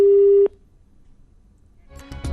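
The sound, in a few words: telephone call disconnected, busy tone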